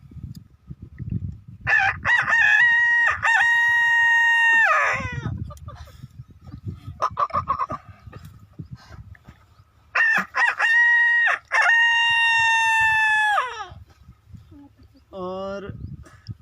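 A voice imitates a rooster crowing at four in the morning in long, drawn-out cock-a-doodle-doo calls. Two loud, close imitations are separated by stretches of speech, and a shorter rising cry comes at the end.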